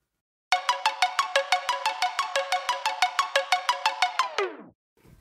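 A rapid run of about twenty bright, evenly spaced plucked or chimed tones repeating at a steady pulse, loud and close, played through a compressor switched in and out of bypass, ending in a fading decay.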